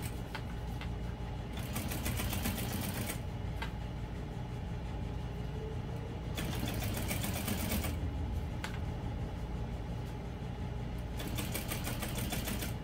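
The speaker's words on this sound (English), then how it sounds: "I'm just going to top stitch along both sides of the strap." A sewing machine top stitches along a vinyl strap in a steady, fast mechanical whirr that runs on and off in long stretches, close up, over a constant background hum from an air conditioner.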